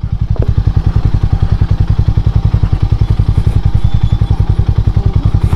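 A Harley X440 motorcycle rides off-road on a rough, broken road near a dam, its engine thumping in a fast, steady pulse close to the microphone, with occasional clatter from the bumpy ground.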